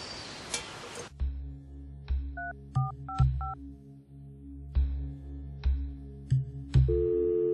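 A landline telephone sounds repeated short electronic tones and beeps, clear and close, with brief dial-like blips between steady hums.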